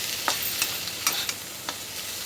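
Stirring chili powder and turmeric into tondli and potato sabji in a hot pan, a soft steady sizzle with a few distinct scraping stirs, close and alone.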